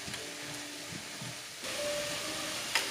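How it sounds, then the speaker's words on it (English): Ginger garlic paste fries in a pan, a soft, steady hiss that swells louder partway through and then holds as a continuous sizzle, with no talking. "In goes the ginger garlic paste, which you'll fry for 10 more minutes."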